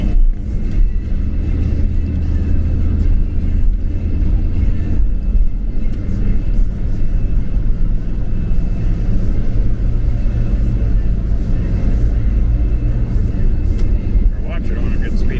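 Steady car engine rumble on a road, continuous low drone with building acceleration through the whole stretch, close and fairly loud inside the vehicle.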